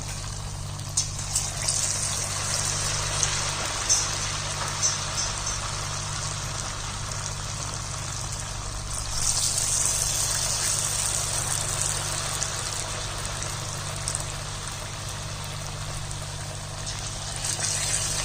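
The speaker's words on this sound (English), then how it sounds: "All of them you have to fry in medium flame." Samosa pinwheels deep-frying in oil over a medium flame, a steady soft bubbling sizzle that holds evenly throughout with faint crackles and no talk.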